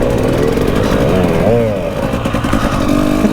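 A dirt bike engine buzzes close by on a trail, its pitch rising and falling as the rider works the throttle, with a voice talking over it.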